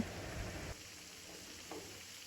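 Snacks made from wheat flour dough sizzle in hot oil as they are turned until crispy, a close, steady frying hiss that loudens briefly before settling into a softer crackle with no voices.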